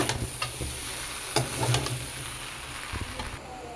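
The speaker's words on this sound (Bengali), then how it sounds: "এবার পোস্ত আর টমেটোটাকে একসাথে আলুর সাথে মিশিয়ে নেব" Poppy seed paste and chopped tomato are stirred into potatoes in a pan for aloo posto, with clicking spoon strokes against the pan over a continuous soft sizzle, close and fairly loud, with no voices.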